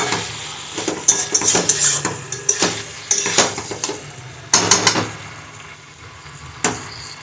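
A utensil clanks and scrapes against a pan in irregular knocks as prawns are stir-fried with spices and potatoes, the metallic hits sharp and close with quieter sizzling between them.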